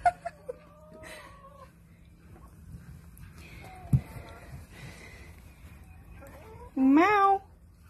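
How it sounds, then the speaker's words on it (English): A cat lets out a loud, drawn-out meow near the end, after a few fainter mews and some background rustling. "That's just my kitty."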